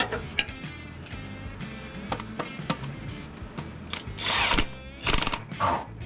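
An impact wrench sets the starter bolts on a Chevrolet Silverado pickup, firing in short rattling bursts and clicks among clanks of metal tools, with irregular gaps between bursts.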